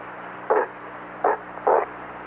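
A voice imitates small bear cubs with three short, gruff vocal grunts, close and fairly loud, spaced irregularly over a quiet background.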